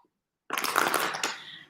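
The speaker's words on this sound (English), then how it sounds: "One more shuffle because he said it's okay to stop." A short burst of tarot cards being shuffled close up, a quick riffle of papery flutter after a moment of silence.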